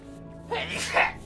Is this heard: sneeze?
yes